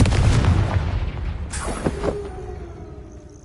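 A Confringo explosive spell goes off in Hogwarts Legacy: a heavy booming blast that rolls off, followed by a sharp crack and a fading rumble.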